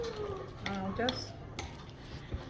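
Food being stirred in a bowl, soft clinks and scraping against the dish, close and fairly quiet, with a voice speaking briefly over it.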